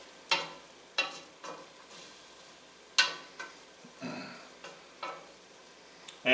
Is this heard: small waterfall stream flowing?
no